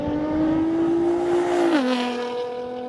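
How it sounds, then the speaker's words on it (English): A Nissan GT-R engine holds a steady, close droning note, then its pitch drops sharply partway through, as on a gear change or lift-off, before settling at a lower hum. No one speaks. "Just listen to the sound that the car makes."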